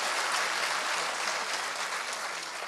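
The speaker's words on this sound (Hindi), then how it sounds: "अब चलिए मैं एक बार तालियां आदिल रशीद के लिए" An audience at an Urdu poetry mushaira gives a burst of steady, dense applause. It sounds like many hands clapping together and stays fairly even throughout before easing slightly at the end.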